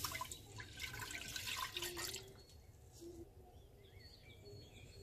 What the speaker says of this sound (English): First I will pour the milk.